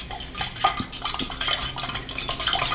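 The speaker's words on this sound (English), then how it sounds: "So we're gonna stir this a little bit more." A utensil stirs melted wax with dye in a container, giving soft scraping and clinking strokes in a steady, close, moderately loud rhythm without talking.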